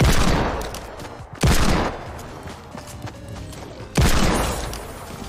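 Hand cannon fire in the video game Fortnite, two heavy booming shots about two and a half seconds apart, each decaying into a long rumbling tail over background game noise.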